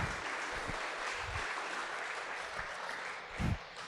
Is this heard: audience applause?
yes